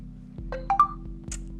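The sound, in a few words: Tecno Camon 15 phone startup sound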